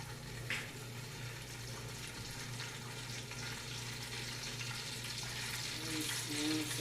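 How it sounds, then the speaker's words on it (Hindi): Hot oil sizzles and crackles steadily in a pan while being readied for frying karhi pakora, a continuous moderate hiss close by with faint clatter and no clear speech. "जब आवाज़ आ जाए ये देखें आपके ऑयल गर्म हो गया है, इसकी आवाज़ आ रही है।"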